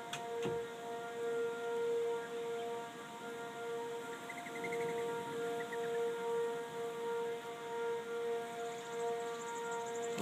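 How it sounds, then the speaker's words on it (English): An ASC Cyclone civil defense siren at Three Mile Island wails steadily during a test for the whole stretch, a sustained droning tone with slowly shifting pitch, heard from a distance over outdoor background noise. "Look at them sirens"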